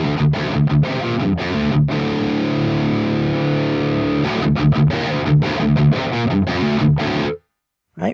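An electric guitar runs through the ML Sound Lab AMPED Block Letter amp with the gain turned up. It plays a loud, close, distorted riff of chugging palm-muted chords around a long sustained chord, then stops abruptly with a brief tail.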